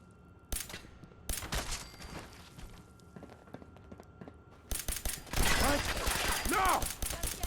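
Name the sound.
rockets being fired in a video game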